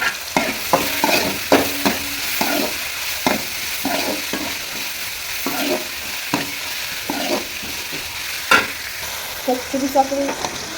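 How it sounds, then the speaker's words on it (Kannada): Chopped cabbage being tempered in hot oil, with a steady sizzle and repeated clanks and scrapes of stirring against the pan, loud and close, no voices. "ಹಾಗೆ ಕ್ಯಾಬೇಜ್ ಎಲ್ಲ ಕೊಯ್ದಿಟ್ಟಿದ್ದಾರೆ, ಅದನ್ನು ನಾನು ಒಗ್ಗರಣೆ ಹಾಕ್ತಾ ಇದ್ದೇನೆ"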